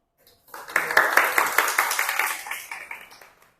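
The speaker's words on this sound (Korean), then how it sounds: "큰 박수로 모시겠습니다" A small audience at a youth startup academy lecture in Busan claps to welcome the speaker, a short burst of close applause lasting about three seconds that fades out.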